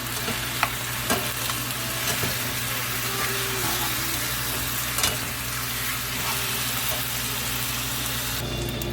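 Thick rice noodles coated in sweet black soy sauce stir-fry in a hot pan, a dense continuous sizzle with occasional spatula scrapes and clacks, close and steady.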